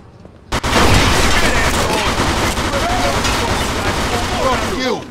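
Dense, sustained gunfire from a Mafia II shootout: continuous loud bursts and shots after a brief quiet start, mixed with voices shouting over the din.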